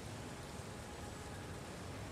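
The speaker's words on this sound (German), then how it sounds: "Jetzt ist Regen." Steady broadband rain hiss from a downpour in the video game Marvel's Spider-Man, a constant wash of falling rain that continues without a break.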